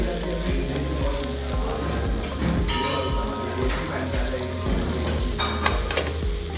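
Fish dusted in seasoned flour fries in hot clarified butter in a pan, giving a loud, steady sizzle with crackling spatter throughout and faint utensil clinks near the end.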